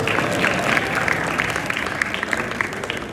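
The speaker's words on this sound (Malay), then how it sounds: "Dan tepuk tangan lah ke isteri saya sampai." A crowd at a motivational speech applauds continuously, dense overlapping claps holding steady at a moderate level from start to finish.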